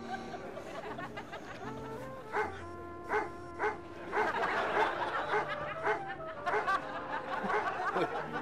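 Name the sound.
person imitating a dog barking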